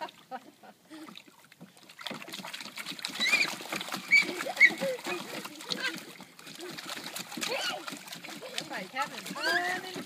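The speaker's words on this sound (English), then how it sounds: "It's like puddle splashing." Children splash in a puddle, light splashing and sloshing of water with scattered small splats, continuing steadily under distant children's voices and chatter.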